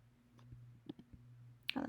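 A computer mouse clicks a few times while building a pie chart in Google Sheets, giving faint, sharp taps over a low steady hum before a louder rustle at the end.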